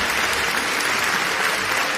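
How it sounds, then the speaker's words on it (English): An audience at a student debate breaks into applause, a dense wash of many hands clapping together, close and loud, sustained for the whole moment without speech. "Clap for her now."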